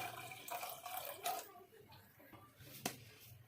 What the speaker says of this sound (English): We'll put a pot where we'll be cooking our dish. So we'll put around 1 liter, like around 800 ml of water.